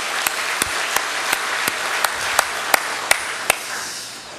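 A church congregation at Sunday worship applauds its choir members, a dense, even round of clapping with several sharp, louder claps standing out at regular intervals.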